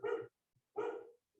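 A pet dog barks twice indoors, two clear close woofs about half a second apart, with quiet in between.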